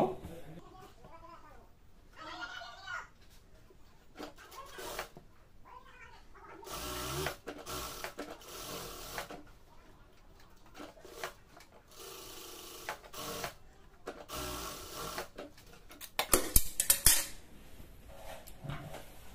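A sewing machine stitches the side seam of a salwar. Bursts of close, whirring mechanical stitching come and go between quiet handling and pauses, with a louder run near the end.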